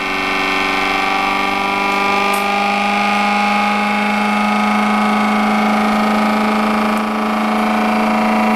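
A small electric motor whirs as its supply voltage is raised to 15 volts, a loud steady hum with sustained tonal whine that holds nearly constant throughout, with no talking.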